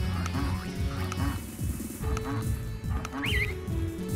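A duck in the Guardian's Sword side story video game gives a quick run of quacks, repeated in an even rhythm and fairly quiet.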